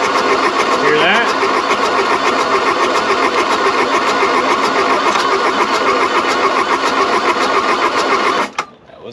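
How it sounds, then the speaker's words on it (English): An old Volkswagen Rabbit, abandoned in the woods, cranks steadily on its starter with a loud, even whir while a cylinder briefly fires, then the cranking cuts off abruptly near the end. "That was a cylinder kicking off."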